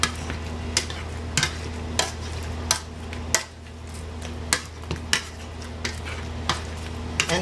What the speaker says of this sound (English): And now I'm continuing mashing